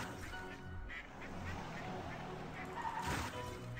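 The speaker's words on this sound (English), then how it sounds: "Can I just stop the ducks?" Ducks quacking beside a street with passing traffic, a steady noisy outdoor bed with intermittent nasal calls close by and a louder burst near the end.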